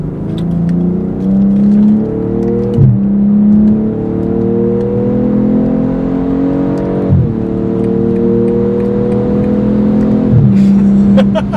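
An all-wheel drive car drives and accelerates hard, its engine note climbing steadily through gears with clear shift breaks. The sound is loud and close, as if from inside the cabin, with no talk over it.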